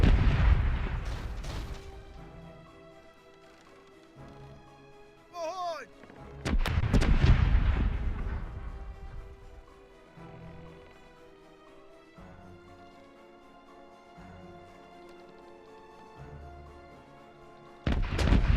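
Ship cannons firing in the naval video game Corsairs Legacy, a few heavy booming blasts with long rumbling tails spaced over the stretch, loud and close, with background music and a voice in between.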